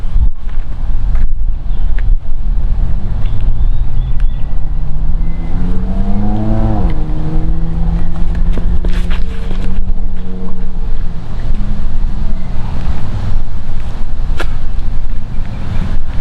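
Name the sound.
strong headwind blowing during a disc golf round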